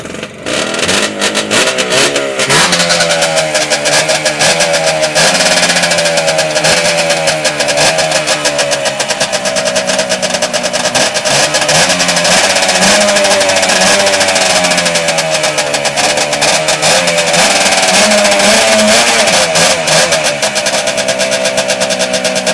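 A car engine idles loudly up close and revs repeatedly, its pitch climbing and falling in steady surges with no talking.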